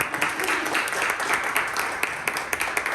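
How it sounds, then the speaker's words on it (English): Audience applause for a presenter at a Wenatchee 1 Million Cups pitch event, a dense steady patter of clapping with a few sharper individual claps standing out, moderately loud throughout. "Let's give her a round of applause."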